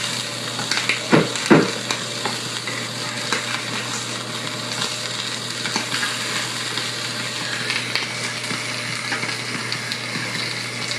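Stock for demi-glace at a steady boil, giving a constant bubbling, sizzling hiss close by with a few louder pops and clatters near the start, and no talking.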